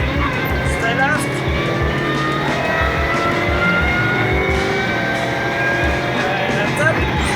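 A BMW E92 on the Nürburgring drives hard under a sustained, loud engine note with rising and shifting pitch, tires faintly squealing, while a coach speaks over it from inside the car.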